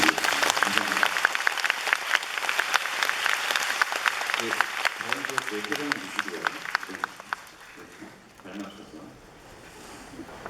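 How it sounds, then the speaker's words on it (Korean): Loud, sustained applause from a musical showcase audience, dense clapping that tapers off toward the end, with a voice speaking over part of it. "다시 한번 큰 박수 부탁드립니다"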